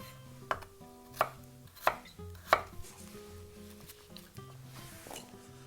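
A knife chops a potato firmly on a cutting board into small pieces, four sharp, evenly spaced strokes over soft background music.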